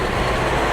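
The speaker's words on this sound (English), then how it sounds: "wait for the loud car to pass" A loud car passes close by on a city street in Nagoya, Japan, a steady broadband roar of engine and tyre noise filling the whole moment with no voices.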